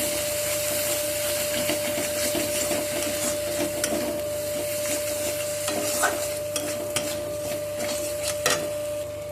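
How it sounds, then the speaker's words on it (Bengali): Spices with potatoes and eggs are stirred and sautéed in a pan, a constant low sizzle under repeated scraping strokes and occasional taps, with a steady background hum and no speech. "সব কিছুকে একসাথে ভালো করে কষিয়ে নেব।"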